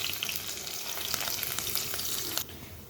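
Panch phoron, chopped chili and ginger hit hot oil in a pan, giving a steady, close, bright sizzle that drops sharply in loudness near the end, with no voices.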